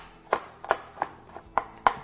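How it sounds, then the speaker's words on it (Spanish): A knife chops garlic on a small wooden cutting board, six crisp, evenly spaced strikes close up with nothing else in the background. "Vamos picando todo este ajito bien pequeñito"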